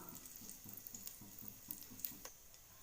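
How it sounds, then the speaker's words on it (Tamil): Raw rice and moong dal being washed in water for ven pongal, soft rhythmic swishing and sloshing in a bowl with light drips, faint and close. "இந்த பச்சரிசியும் பாசிப்பருப்பையும் ஒன்றா ஆட் பண்ணி நம்ம 2-3 டைம் நல்லா கழுவி எடுத்துக்கலாம்."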